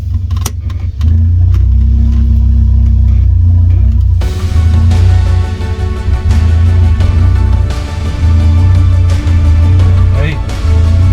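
An Audi S1 engine idles steadily after a clutch replacement, a loud close low rumble that picks up in intensity partway through, with a few clicks and knocks at the start.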